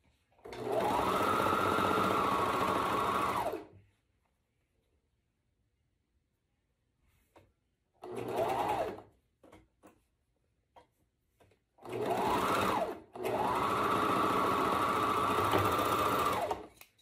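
Close sewing machine stitching across corset shoulder seams, running in three bursts of steady whirring, a long one, a short one and another long one, separated by quiet pauses with faint handling clicks.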